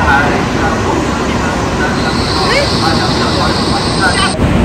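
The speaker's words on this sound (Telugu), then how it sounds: "అక్కడ ఒక ట్రైన్ వచ్చి ఆగి ఉన్నది." A train pulls into a station in Guangzhou and comes to a stop with a loud, steady rumble of wheels on rails and a rising high-pitched squeal before it halts.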